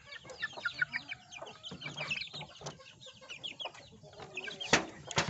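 Chicks and hens clucking and peeping nearby, a busy irregular stream of soft clucks and higher chirps with one louder squawk near the end.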